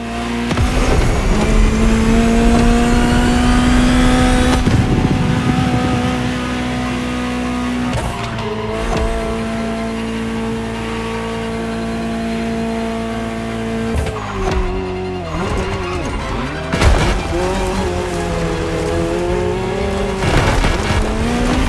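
A Ferrari 288 GTO in The Crew Motorfest video game revs loud and close, its engine note rising and falling through gear changes while tires squeal in long stretches over the roar.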